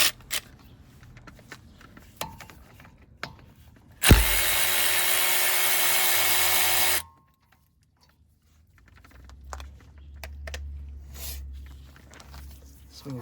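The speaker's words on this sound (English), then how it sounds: "you're going to take the bottom bolt off of this caliper" A power tool runs in one steady, loud burst of about three seconds while the bottom brake caliper bolt comes off a Nissan Versa during a front brake job, with scattered clicks and handling noises around it.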